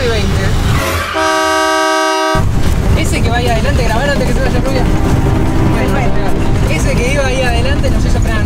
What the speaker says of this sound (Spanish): así que arrancamos con un bocinazo acá